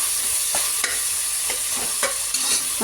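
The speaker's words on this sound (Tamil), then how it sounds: "அடுத்து தக்காளி பழம் போடணும். நல்லா வதங்கணும்." Tomatoes and onions sauté for mutton biryani in a hissing pan, a steady sizzle broken by several distinct stirring scrapes and knocks at irregular intervals, close up and without speech.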